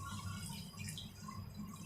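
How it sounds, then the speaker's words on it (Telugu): A thin stream of water pours and drips into a pan of cooking cabbage Manchurian nearby, brief and fairly quiet, with no voices. "కొంచెం నీళ్ళు వేస్తున్నాను"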